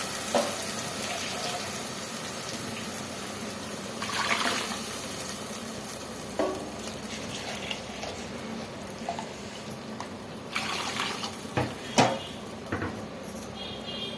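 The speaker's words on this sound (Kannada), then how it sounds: "ಈ ಥರ ಚೆನ್ನಾಗಿ ಮಿಕ್ಸ್ ಮಾಡ್ಕೊಳ್ಳೋಣ" Leafy greens curry gets mixed in a pot with the water from the ground greens. Liquid sloshes and sizzles steadily, with occasional clinks of the spoon against the pot.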